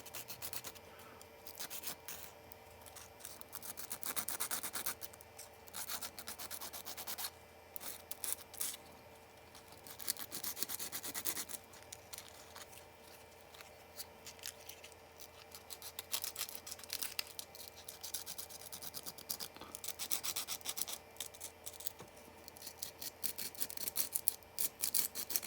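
Hand sanding a 3D printed Among Us USB flash drive, a soft scratchy rubbing repeated in short uneven strokes, close up and quiet with no talking.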